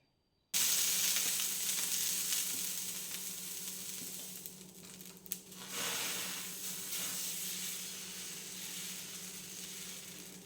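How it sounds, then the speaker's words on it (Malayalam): Dosa batter sizzles steadily on a hot griddle rubbed with oil and splashed with water, a loud continuous hiss starting abruptly and fading slightly over time, with no voices. "ഇപ്പം നമ്മൾ ദോശ ചുടുമ്പോൾ ഇതുപോലെ ദോശക്കല്ല് ചൂടായതിന് ശേഷം അല്പം എണ്ണ തടവിയിട്ട് കുറച്ച് വെള്ളവും കൂടെ ഒഴിച്ചതിന് ശേഷം ദോശ പരത്തി എടുക്കുകയാണെങ്കിൽ നല്ല കറക്റ്റായിട്ട് കിട്ടും"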